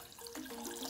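A cup of water splashes and gurgles as it is poured into a pot of white vinegar for dill pickle brine. The brief pour is close and fairly soft.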